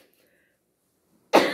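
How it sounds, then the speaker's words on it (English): Near-silence, then a single sudden, loud cough bursts in at the very end. "I'm coughing."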